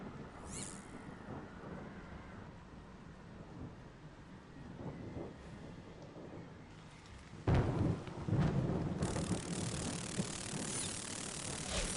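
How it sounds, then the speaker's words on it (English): A stormy scene in the Harry Potter and the Prisoner of Azkaban PC game brings steady rain and rolling thunder, and a louder, harsher burst of storm noise arrives partway through with no voices. "Even though the following morning was stormy and foul"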